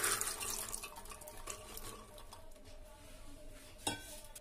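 Water splashes and trickles softly into a pressure cooker holding soaked rajma (kidney beans), with faint clinks of the pot in a home kitchen.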